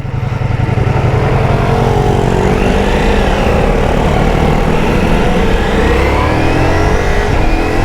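A Ducati Multistrada V4S motorcycle is ridden on the road, its engine note steady and loud throughout with continuous wind and road rush, no talking over it.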